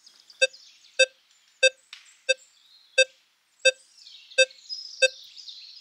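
Nine crisp, very short target beeps come from a metal detector on a short sustain setting, each a quick clipped blip at a regular pace, with faint hiss and rustle between them.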